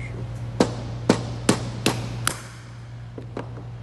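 Five sharp metallic taps of a mallet on a drill bit releasing a gas spring, struck at a steady pace, close and fairly loud over a low steady hum, followed by a couple of fainter knocks.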